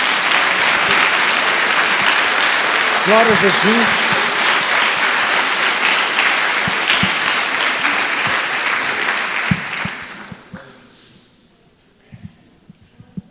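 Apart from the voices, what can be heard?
church congregation applauding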